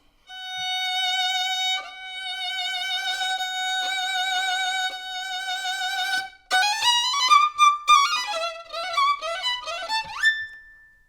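A solo violin plays a passage from Strauss's Ein Heldenleben, holding long vibrato notes, then launching into rapid, agitated runs and leaps, played alone and clear.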